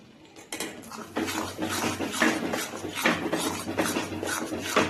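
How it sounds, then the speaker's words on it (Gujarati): Flour roasting in ghee for Gujarati mohanthal is stirred steadily in a metal pan, with repeated scraping strokes and clinks of the spoon against the pan, loud and close, with no talk. "લોટને સતત હલાવતા રહીને શેકવાનો છે"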